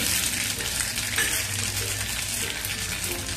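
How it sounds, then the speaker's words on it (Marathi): Curry leaves, mustard seeds and urad dal crackle in well-heated oil, a loud, dense, continuous sizzle that stays steady throughout with no voices. "आपण कढीपत्ता घालूया, मोहरी घालूया, उडदाची डाळ घालूया"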